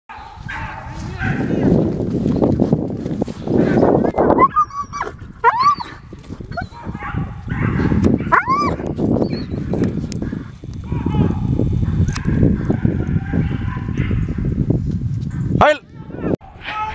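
Greyhounds bark and whine excitedly during an outdoor hare hunt in southern Chile near Temuco, with repeated loud barks and yelps mixed with people shouting nearby throughout.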